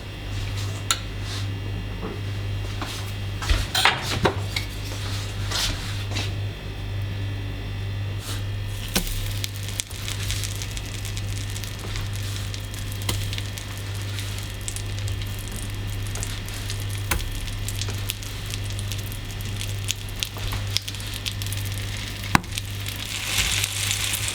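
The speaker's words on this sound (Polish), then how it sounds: "Na patelnię wrzucamy odrobinę masła, roztapiamy." Soft, steady sizzling of cheese patties frying in butter in a pan, with occasional clinks and scrapes of a utensil; no talking.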